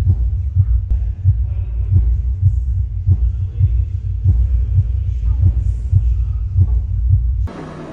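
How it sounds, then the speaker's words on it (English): A deep, throbbing heartbeat sound effect pulses steadily in an immersive exhibit, low and booming with a regular double-beat rhythm, faint room noise above it before it cuts off near the end. "Measuring my heartbeat."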